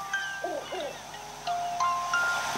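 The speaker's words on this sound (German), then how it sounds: "Oh, eine Eule." An owl hoots in the video game The Legend of Zelda: Link's Awakening, two short wavering calls, followed by a run of clean electronic tones, loud and close over a soft background hiss.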